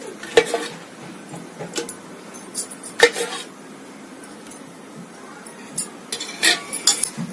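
A spoon clinks against a metal kadai as oil goes into the hot pan, with several sharp, close metallic taps spaced irregularly over a faint background sizzle and kitchen clatter; no one speaks.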